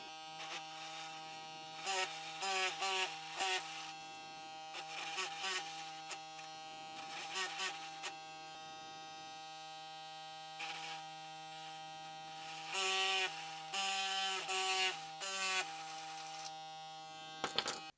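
BaByliss Dual Coil hair clipper buzzing steadily with a strong motor hum, its pitch dipping in repeated bursts as it cuts through brushes, no talking.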